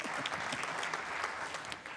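A political leadership-candidate audience claps steadily throughout, a dense, fairly close wash of many hands that tapers slightly at the end.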